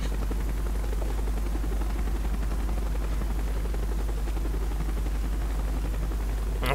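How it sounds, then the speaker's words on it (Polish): Russian Mi-8 helicopter in Call of Duty Black Ops, a loud continuous rotor drone with deep low rumble and rapid chopping texture, steady throughout with no speech. "Mi-8 jest chyba najczęściej używany helikopter w grach Call of Duty rosyjski."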